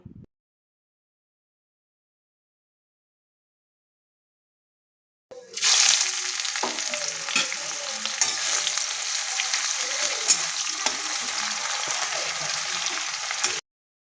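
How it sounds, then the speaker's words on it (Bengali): Chopped onions drop into hot oil already used for frying potatoes with whole spices and start a loud, steady sizzle after a few seconds of silence, the frying continuing close and unbroken to the end. "পেঁয়াজ কুচিগুলো দিয়ে ভালো করে ভেজে নেব।"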